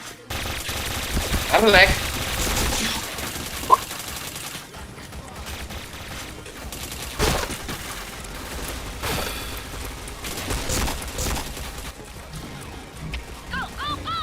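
Gunfire crackles in a shooting video game, with a few bursts of shots among background game noise while a person talks briefly.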